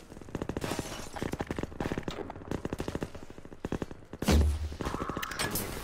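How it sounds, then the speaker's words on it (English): Rapid bursts of gunfire from the video game Half-Life 2, with repeated sharp shots in quick runs and a louder, heavier blast near the end, fairly close and with no talking. "He's shooting at something."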